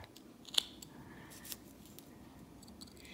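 A carving knife makes push cuts in wood while whittling a human face, giving two or three faint, crisp snicks spaced apart against near silence.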